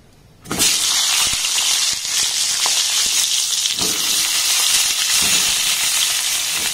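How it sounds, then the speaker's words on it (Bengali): Cut pointed gourd (parwal) drops into hot mustard oil and sizzles at once, a loud, steady frying hiss that holds without a break for the rest of the clip, with faint clinks and stirring sounds underneath. "এবার দেখুন যে পটলগুলোকে খুব ভালোভাবে কেটে ধুয়ে নিয়েছি, এগুলো এর মধ্যে দিয়ে আমি ভেজে নেব।"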